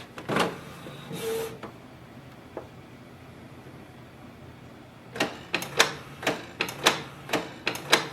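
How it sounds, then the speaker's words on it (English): A Canon Pixma TS3729 inkjet printer printing a page, with a couple of mechanical whirs early on, a quiet stretch, then a series of regular clicking, ratcheting bursts as the print head and paper feed move, heard up close. "So it's going to print for first time."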